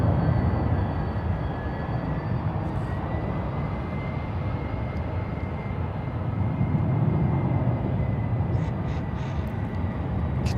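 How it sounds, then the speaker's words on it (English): Qatar Airways and Virgin Atlantic airliners departing and arriving at San Francisco International Airport, a steady broad jet engine roar that holds loud and continuous throughout with no talk over it. "Qatar and Virgin Atlantic departing and arriving at the exact same time"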